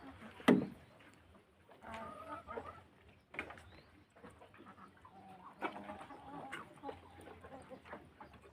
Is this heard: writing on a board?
no